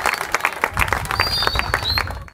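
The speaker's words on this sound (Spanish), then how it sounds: "Un aplauso para Ricardo." Audience applause at a community news event tied to a cycling challenge: a steady burst of clapping from a crowd, lively and close, with a faint voice or whistle over it before it cuts off.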